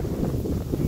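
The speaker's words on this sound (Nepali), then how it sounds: "हावा दामी नै चल्दैछ त्यो भयो।" Strong wind buffets the microphone outdoors near a homestay, a close, loud, continuous low rumble with no pauses.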